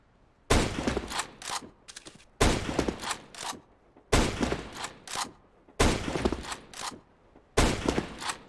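Sniper rifle shots in CS:GO ring out in five loud, sharp reports spaced about every two seconds, each followed by bolt-cycling clicks and a fading echo.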